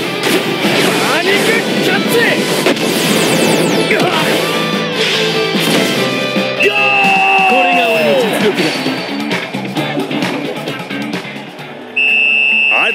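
Fire Tornado Double Drive special shot in an Inazuma Eleven Victory Road match, loud whooshing and crashing game effects with rising tonal swoops and a sustained synthetic tone, under an excited commentator.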